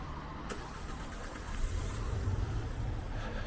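A car engine struggles to start on a snowy street, a brief cranking burst followed by a rough, low mechanical rumble that grows louder and steadier, heard from across the road outdoors.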